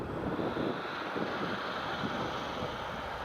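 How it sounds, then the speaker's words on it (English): A Lockheed C-130 Hercules military transport flies past near Newcastle Airport, a steady broadband propeller-engine drone holding level and moderately loud throughout with no voices. "I could just hear that Hercules as well"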